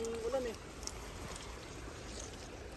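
Strong water rushes steadily and noisily throughout, with a brief whistling tone near the start.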